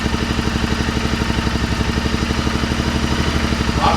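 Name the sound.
motorcycle engine started via half self-start, idling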